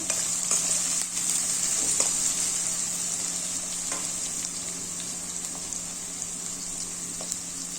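Onions fry in a pan for a dal palak, producing a constant close sizzling hiss with occasional light clicks of a spoon stirring them.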